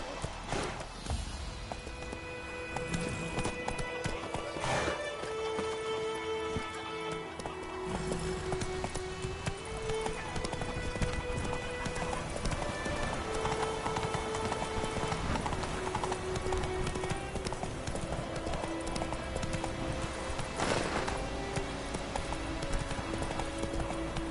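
Horse hooves clip-clop steadily and continuously at a walking pace, fairly close, with occasional neighing, a few short bursts of background noise and a faint voice now and then.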